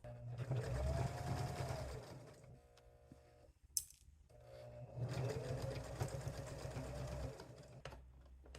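A sewing machine stitches a ribbon bag, running in two steady bursts with a brief pause between them, first sewing backward and then forward in a backstitch, close and fairly loud.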